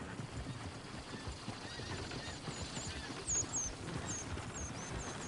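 Horses in the video game Red Dead Redemption 2 give clip-clopping hooves and a faint high whinny over a rumbling outdoor ambience, moderately distant, without talking.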